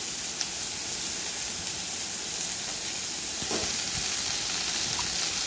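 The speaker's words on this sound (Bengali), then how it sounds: "বেগুনগুলো দিয়ে বেগুন আলু দিয়ে ভেজে নেব প্রথমে ভালো করে।" Eggplant and potato pieces fry in hot oil with a steady, hissing sizzle that stays even the whole time, broken only by a faint stir or two near the end.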